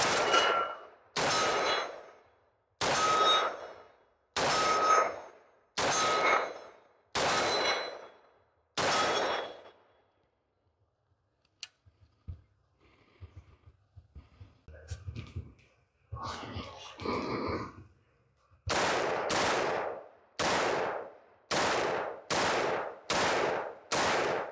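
Sig Sauer MCX Spear LT rifle firing roughly a dozen loud, sharp shots in two quick strings at an outdoor range, separated by a quiet pause with faint voices and handling noise.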